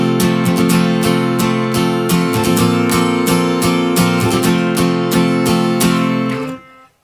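Close, solo acoustic guitar plays a worship-song strumming pattern, sharp chord strums broken up by percussive muted hits in between, keeping a steady rhythmic drive before cutting off at the end.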